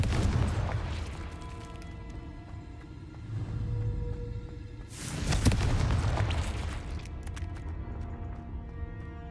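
A Confringo fire spell explodes in the video game Hogwarts Legacy, a deep rumbling boom with a burst of crackle midway, over a low sustained game score.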